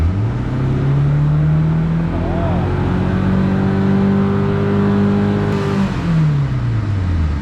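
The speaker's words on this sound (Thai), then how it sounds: "เดี๋ยวให้ดูรอบเครื่อง ดูรอบเครื่องครับ" A used European car, bought for 55,000 baht, revs in place, its engine note climbing and holding steady at a raised pitch before dropping back toward idle, loud and close throughout with no talking.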